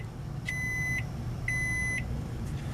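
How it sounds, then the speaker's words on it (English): A microwave oven sounds two evenly spaced electronic beeps, each about half a second long, clearly over a low background hum, followed by a faint third blip. "Ready. Microwave."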